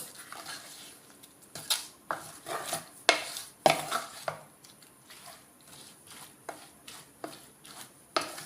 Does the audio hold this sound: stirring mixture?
yes